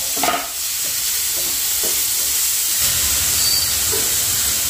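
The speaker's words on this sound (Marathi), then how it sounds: "हलकासा बटरमध्ये मी हाय फ्लेमवरतीच थोडासा परतते" Onion and tomato sauté in butter over a high flame, giving a loud, continuous sizzle and hiss with a few stirring scrapes early on and no talk.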